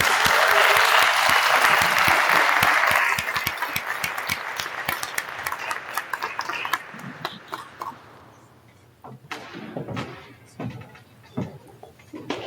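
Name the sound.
audience applause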